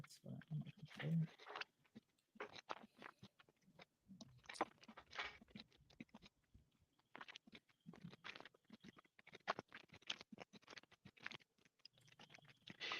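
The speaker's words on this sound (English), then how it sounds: "you can hear me chewing, I'm sorry." Someone chews food close to the microphone, with repeated crunchy bites and moist mastication in irregular bursts separated by short pauses.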